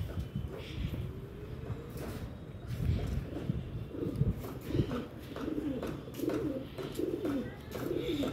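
Pigeons coo softly and repeatedly over a steady background rumble, with low murmuring calls overlapping throughout.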